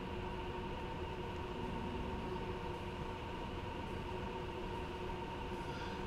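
A train arrives in Train Sim World 2 with a steady, continuous rumble and hiss of rolling wheels, loud and close throughout, with no voices.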